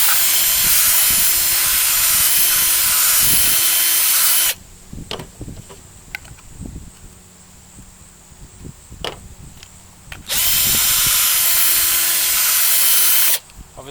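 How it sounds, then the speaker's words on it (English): A power drill whirs loudly for several seconds drilling out a downpipe first flush diverter fitting, stops for quieter clinks and handling noises, then runs again for another long burst. "drill this out, sand it out"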